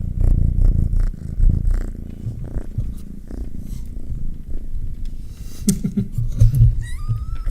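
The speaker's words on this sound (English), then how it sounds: "Do you guys hear him purring?" A young cat purrs close to the microphone in a steady, rumbling rhythm that continues throughout, broken by a few brief handling noises near the end.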